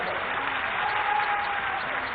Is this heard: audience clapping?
yes